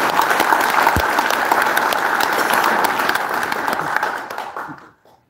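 A large audience at a Korean Senior Citizens Association inauguration ceremony claps in sustained, dense applause that holds steady for about four seconds, then fades out quickly.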